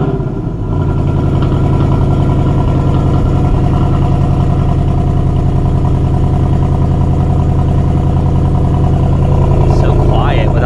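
A 2024 Ford Mustang GT V8 runs with its active exhaust switched off, a steady, fairly loud low rumble with a regular pulsing firing rhythm heard close up from inside the car, holding an even note throughout.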